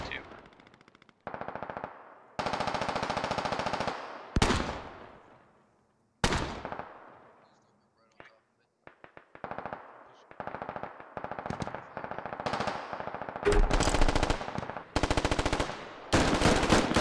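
Bursts of automatic and single-shot gunfire from the military video game Squad, rattling in loud clusters with brief silent gaps between them. The shooting is heavy and close, and faint voices can be heard under it at times.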